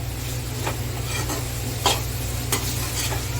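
Chickpeas cook in a pan with a steady low sizzle, while a spoon scrapes and stirs them in a few brief strokes, close up and without talk.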